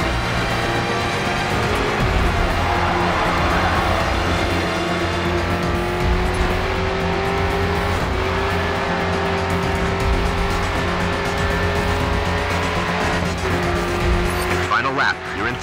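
Racing cars in the GRID 2 video game roar continuously with engine whine, squealing tires and skids, loud and steady throughout with a brief dip near the end.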